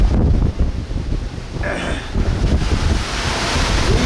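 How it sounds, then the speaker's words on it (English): Heavy seas on a ship bound for the Falklands, loud crashing waves and rushing spray with strong wind buffeting the microphone, a continuous roar throughout. "Look at these waves."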